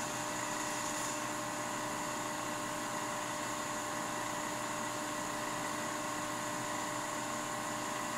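A Leybold Turbovac 150 turbomolecular pump runs up after a pumpdown, giving a steady whine with several sustained tones over a constant airy hiss, even and unbroken throughout; no voices.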